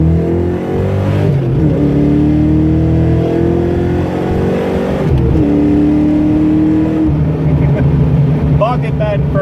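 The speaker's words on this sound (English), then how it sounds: "Hit the rev limiter, and then I bogged second really bad." A 1987 Ford Mustang Fox body revs hard through the gears, its engine note climbing and hanging flat at the rev limiter, then dropping as the next gear engages, with voices speaking over the loud cabin noise.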